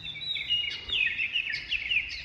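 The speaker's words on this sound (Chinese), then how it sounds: "听到这种鸟叫声" Birds chirping and singing in a misty, low-elevation subtropical valley during light drizzle, with a run of clear, bright calls, repeated and fairly close, and no one talking.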